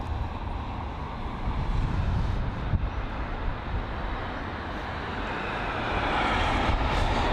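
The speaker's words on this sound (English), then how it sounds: "So we've got a British Airways A380 that is making its way over to runway 27 left for departure." A British Airways Airbus A380 taxies toward the runway for departure at London Heathrow, its engines making a steady, moderately distant jet rumble and whine that swells slightly toward the end, with no talking.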